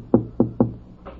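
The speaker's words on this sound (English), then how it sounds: "And then there was a knock on the door." Three firm knocks on a wooden door in an old-time radio drama, evenly spaced and close, followed by a brief faint sound.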